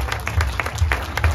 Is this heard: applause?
yes